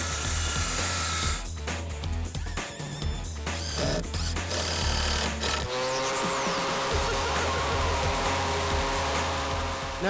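Power drilling of post holes for a deck on a cliff edge, with rhythmic mechanical chugging and bursts of tool noise early on, then a steadier grinding drone with a rising whine, loud and continuous.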